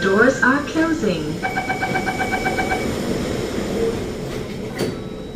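A Singapore metro train's door-closing chime beeps repeatedly over steady carriage rumble at Kent Ridge station, with a brief voice announcement at the start.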